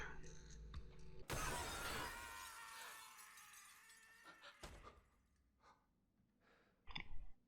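Glass is struck by a thrown marble and shatters in one bright, loud crash with a ringing tinkle. Quiet breaths, a gasp and soft voices follow.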